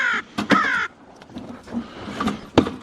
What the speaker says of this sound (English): Let's get the crows out.